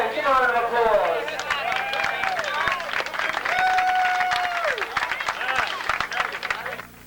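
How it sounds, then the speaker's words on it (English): Audience clapping and cheering at a show aboard the cruise ship Sovereign of the Seas, a crowd applauding steadily under a voice and background chatter. "Once again, give a round of applause."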